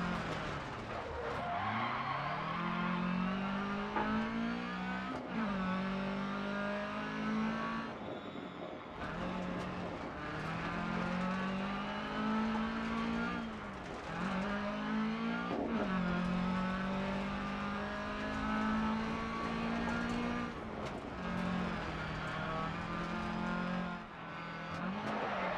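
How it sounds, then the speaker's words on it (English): Front tires of a 2F kit rally car in Dirt Rally 2 VR screeching through repeated corners, loud squeals rising and falling in several bursts over the engine's revving drone, no talk. "hear those tires screech."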